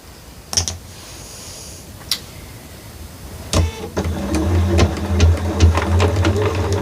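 A sewing machine stitching a quilt starts in bursts of quick, rhythmic needle clatter with a low motor hum, broken by a few isolated clicks before settling into steady stitching.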